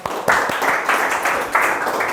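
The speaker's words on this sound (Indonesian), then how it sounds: "Oke, bagus ya, tepuk tangan kita semua." Classroom of pupils clapping hands together, loud and close, in rhythmic bursts that pulse several times in a regular beat.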